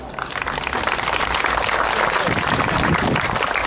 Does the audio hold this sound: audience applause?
yes